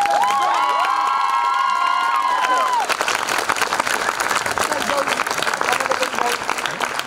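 A school show audience bursts into loud applause and cheering, with high whoops and shouts at first, then sustained clapping continuing steadily.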